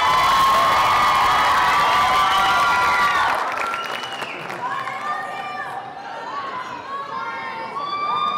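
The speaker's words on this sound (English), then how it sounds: "Let's give them one more round of applause" A crowd at a school singing contest applauds and cheers, with shouts and lively chatter over a dense wash of clapping that eases somewhat partway through.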